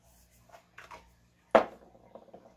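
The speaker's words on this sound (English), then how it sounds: "I'm going to set that with a little bit of setting spray." A single short, sharp hiss of makeup setting spray bursts out close by, surrounded by faint rustling and light handling sounds.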